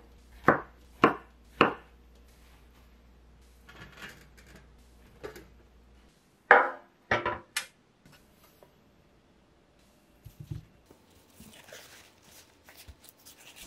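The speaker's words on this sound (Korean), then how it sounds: "표고버섯은 먹기 좋은 크기로 써세요." A knife slicing shiitake mushrooms on a cutting board, a handful of sharp, separate chops spaced apart with pauses, close and fairly crisp, followed by softer handling sounds.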